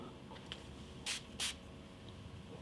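Two short hissy bursts of a hair protein strengthener spray, each about a third of a second, close and fairly clear over a quiet background.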